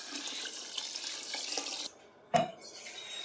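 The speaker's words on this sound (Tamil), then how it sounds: "தேவையான அளவுக்கு தண்ணி ஊற்றிக்குவோம்." Tap water runs steadily into a rice pot of orange-coloured cooking rice, then cuts off, followed by a single sharp clunk of the pot, close and moderately loud with no talk.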